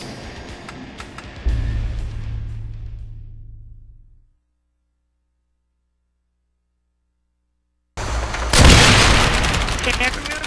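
RPG rocket blasts in a multiplayer shooter video game: a low booming explosion with a rumbling tail that fades to silence, then a loud burst of crashing, crackling blast noise a few seconds later.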